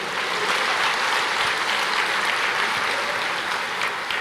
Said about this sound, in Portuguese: pode aplaudir, aplauda o Senhor.